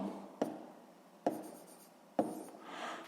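Pen writing on paper while working a sixth-grade maths exercise, three short distinct scratchy strokes spaced about a second apart, close and quiet, with a softer stroke trailing at the end.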